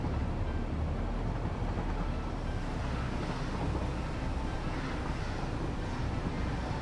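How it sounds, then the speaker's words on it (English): A train hauling cargo wagons full of oil rolls past in the factory-building game Satisfactory, a steady low rumble and rushing clatter that holds at an even, fairly loud level with no voices. "here's one of the actual trains with the nice cargo wagons containing oil"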